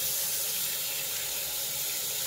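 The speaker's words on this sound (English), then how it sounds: "we're gonna use some more water." Water runs steadily from a tap, a constant hissing splash with no talking.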